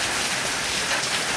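A windy early-morning thunderstorm drops a hard, unbroken downpour, its close, loud rushing hiss holding steady throughout with no one speaking.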